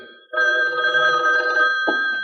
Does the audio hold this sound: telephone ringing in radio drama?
yes